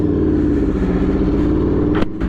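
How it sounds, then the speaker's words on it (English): Aprilia RSV4 motorcycle with a Leo Vince exhaust, a loud, close, steady engine drone with a rough, throbbing low tone, ending in a couple of sharp clattering bursts. "Can you guys hear this Leo Vinci exhaust?"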